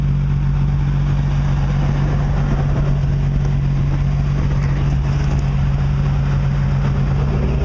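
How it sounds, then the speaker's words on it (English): A deep, rumbling Nissan Skyline GT-R engine idle with a steady low exhaust burble, continuous and close, with no talking over it. "we'll get some of this exhaust note, which sounds lovely"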